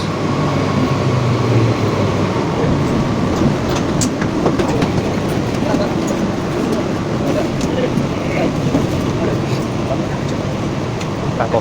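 A crowded Mumbai local train runs toward Andheri, a steady loud rumble with faint rail clatter throughout and some passenger voices mixed into the din.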